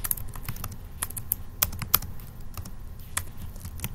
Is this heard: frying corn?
no